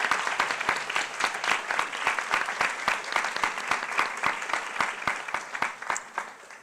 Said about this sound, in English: A big applause, please, for